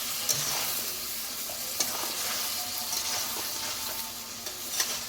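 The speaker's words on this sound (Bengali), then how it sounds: "এইবার এইগুলো দিয়ে আমি সুন্দর করে মাংসটাকে কষিয়ে নিই" Meat fries with spices in a hot pan, a continuous close sizzle broken by frequent scraping strokes of a spatula as it is stirred, steady and fairly loud with no voices.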